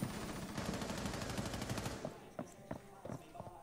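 Rapid automatic gunfire rattles loudly for about two seconds in Rainbow Six Siege, followed by several sharper separate shots, close and punchy.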